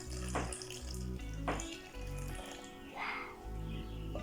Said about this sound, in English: And then you're gonna put a little bit of warm water.